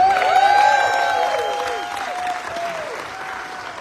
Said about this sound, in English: Another warm round of applause for Meredith Burkett